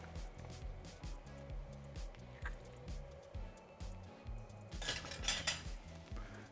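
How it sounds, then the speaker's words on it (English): Cheese sauce is whisked in a pot over low heat, the whisk tapping and scraping the metal in a steady rhythm, close and fairly quiet, with a brighter clatter of utensils near the end. "Keep whisking this all throughout"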